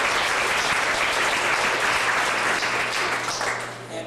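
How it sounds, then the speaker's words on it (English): An audience gives sustained applause to students who walked that morning, loud dense clapping that holds steady and then begins to fade near the end. "Let's give them a round of applause."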